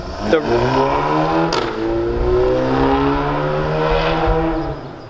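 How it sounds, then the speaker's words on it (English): A car engine revs up loudly nearby, its pitch climbing and holding in a sustained rumble before easing off. "car sounds so good."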